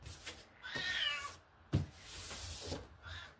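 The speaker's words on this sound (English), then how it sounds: "You can hear my kitty cat in the background." A pet cat meows several times nearby, drawn-out and plaintive cries with a brief knock between them in an otherwise quiet room.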